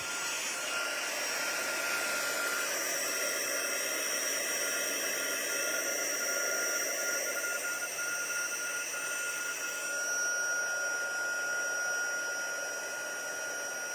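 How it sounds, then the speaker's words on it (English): A handheld heat tool blows steadily and loudly while heat-embossing powder on a stamped card, giving a continuous fan-and-heater whir with a shifting whine and no talking. "Let's heat it up. So I'm gonna get the embossing done. So it's gonna be noisy for a minute."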